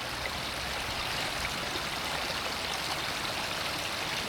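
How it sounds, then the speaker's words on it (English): Compressed air from an air line bubbling fast through water, a steady dense gurgling and rushing that holds level throughout with no pauses, close and moderately loud. "It's producing a lot faster bubbles"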